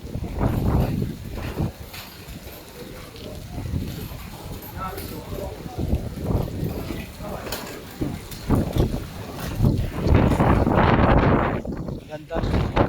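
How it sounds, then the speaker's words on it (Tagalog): Strong typhoon wind gusts roar across Yung Shue Wan on Lamma Island, battering the microphone in loud uneven surges that build heavier toward the end, with rain in the mix. "Lakas ng hangin."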